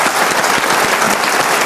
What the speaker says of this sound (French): On l'applaudit pour une fois, une femme.